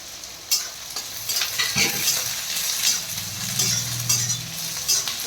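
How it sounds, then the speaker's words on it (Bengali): Green chilies and onion drop into hot oil with lightly browned garlic for an eggplant bharta, bursting into a loud, steady sizzle broken by a few sharp spatula scrapes against the pan. "এখন দিয়ে দিচ্ছি এই যে কাঁচা লঙ্কা আর এই যে পেঁয়াজ, দুটো দিয়ে দিচ্ছি সব।"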